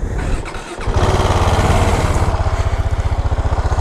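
A KTM Duke 690 single-cylinder motorcycle engine cranks and catches, then settles into a loud, close, pulsing rumble.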